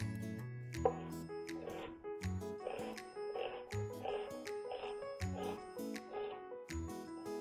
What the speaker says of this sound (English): I lightly chop that. Kind of bigger chunks.